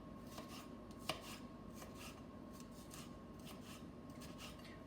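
A serrated knife slices vegetables into thin strips on a cutting board for a vegetable rice dish, giving faint repeated rasping strokes and one sharp tap, heard alone.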